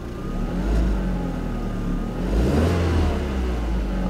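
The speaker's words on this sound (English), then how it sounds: "Let's give it a quick rev." An Audi TT's engine revs up twice, the rumble rising and falling, heard close with a steady idle underneath.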